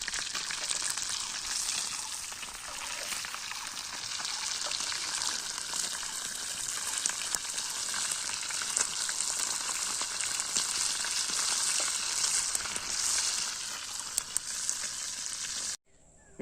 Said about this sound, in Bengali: একদম দেখতে পাচ্ছেন কত সুন্দর ফ্রাই করছি